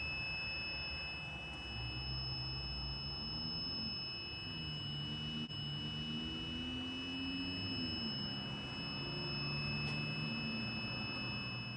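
Beeping from the motor controllers of an electric supercart using Headway cells, Fardriver controllers and a QS motor: steady electronic tones and a warbling pitch run through the clip, heard from a short distance.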